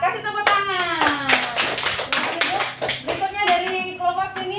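Applause from a primary school classroom, with many hands clapping in a dense, steady patter over several seconds while children's voices chatter and call out underneath.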